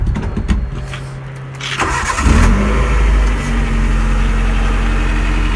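A car fitted with a Remus Valvetronic dual-tip exhaust cranks and fires up loudly, then settles into a deep, steady, throaty idle that runs close to the microphone to the end.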